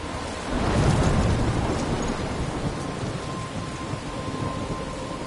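Thunderstorm with heavy rain in the video game Life is Strange: a rumbling thunder roll swells then fades into a dense, steady hiss of pouring rain, with no voices.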